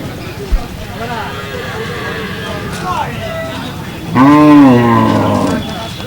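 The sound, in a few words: cow mooing at a cattle market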